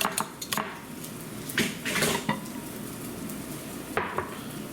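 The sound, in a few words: breaking up bacon in a pan for breakfast casserole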